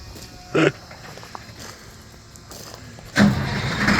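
A truck engine starting: a short crank burst, a lull of low rumble, then the engine catches and settles into a loud, steady running note up close.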